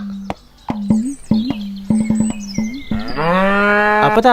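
A cow lowing, starting with several short guttural grunts and snorts, then building into one long, loud, drawn-out moo, heard close by.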